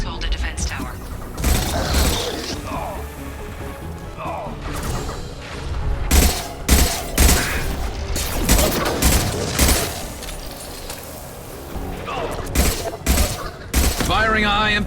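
Mass Effect 2 combat with repeated gunfire bursts and heavy impacts, loud and fairly close, mixed with mechanical noise and talking voices over a busy battle soundscape.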